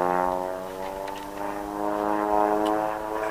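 An aerobatic training airplane flying a square loop at intermediate training in Borrego Springs, its propeller engine droning steadily with a harmonic buzz that swells and eases slightly, heard alone at moderate distance.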